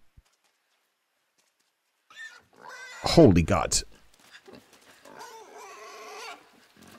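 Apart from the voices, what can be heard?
pig oinking in the video game Inside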